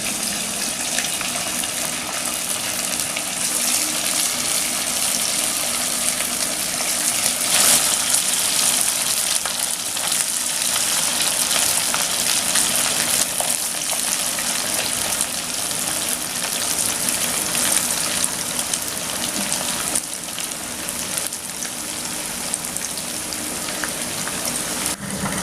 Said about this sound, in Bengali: তেল গরম হয়ে আসলে টিকিয়াগুলি আস্তে আস্তে এতে ছেড়ে দেব।